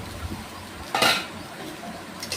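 A potato fry is stirred in a pan, heard as a short metallic scrape and clink of a utensil against the pan amid faint background noise.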